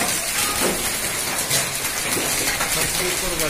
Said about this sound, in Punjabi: ਬਹੁਤ ਤੇਜ਼ ਹੁੰਦੀ ਜਾ ਰਹੀ ਹੈ ਗੜੇਮਾਰੀ।